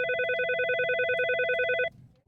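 A telephone rings in a steady, fast electronic warble, one continuous burst lasting nearly two seconds before cutting off abruptly into near silence; clear and close, with no talk.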